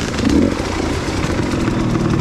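Enduro dirt bike engine revving continuously in the woods, a loud, close, steady motor drone with a brief surge near the start and no talking.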